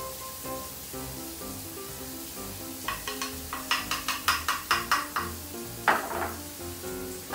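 Onions stir-fried in bacon fat for carbonara, a steady sizzle with a run of regular scraping stirs midway and a louder burst near the end, close and alone without talk.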